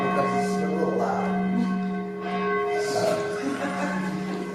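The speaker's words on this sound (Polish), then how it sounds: "would you tell them to turn off the bell because it's a little loud?" A church bell in Bydgoszcz, Poland, rings loud and near, its sustained harmonic tones swelling with each stroke and ringing on between strikes, with no voices.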